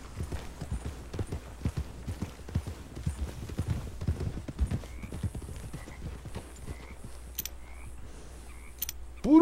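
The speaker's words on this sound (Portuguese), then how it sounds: "Cavalos selvagens, galera." Wild horses in a video game, among them an English Thoroughbred and a Tennessee Walker, give a steady run of hoof clip-clops. Fainter whinnies and neighs come in toward the end.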